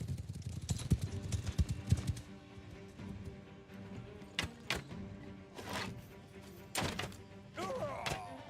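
Cavalry horses moving in the Bannerlord video game, with dense clip-clopping hooves at first, then scattered heavy thuds and hoof knocks spread through the battle scene at moderate volume.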